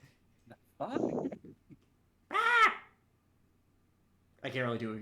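A man imitates a seagull call during a tabletop Dungeons & Dragons session, with nasal squawking cries in separate bursts, the louder ones near the middle and end, mixed with brief spoken sounds.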